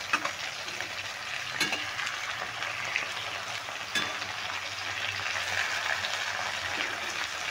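Small Mourala fish frying in oil and being stirred and turned in a pan, a continuous close sizzle broken by a few sharp scraping clicks of the spatula, no talking.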